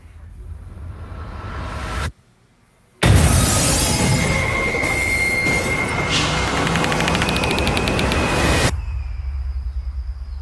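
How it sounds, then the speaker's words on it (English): A loud bomb explosion from A Quiet Place Part 2 trailer bursts in after a brief silence, a sustained broadband roar with crackling debris and ringing that holds for several seconds before cutting off into quieter ambience. "A bomb, I think."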